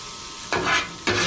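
Chopped cabbage slides across a hot flat top griddle, a steady low sizzle broken by two loud scraping pushes of a spatula, with no talking.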